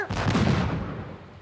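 A ship's cannon fires in an animated cartoon, one broad booming blast that swells at once and rolls away into a fading rumble.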